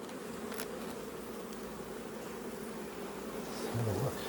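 Honey bees buzz steadily around a hive frame during a fall beekeeping inspection, a dense, continuous drone close to the ear with a slight swell near the end and no talking.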